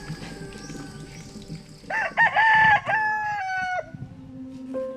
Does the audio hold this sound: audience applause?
no